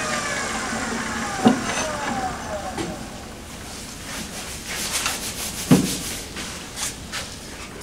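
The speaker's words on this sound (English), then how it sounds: "Hit it with a sanding stick." Wood on a lathe is rubbed with a sanding stick, a soft, quiet abrasive swishing with a few sharper scuffs over a low machine hum, fairly faint and close.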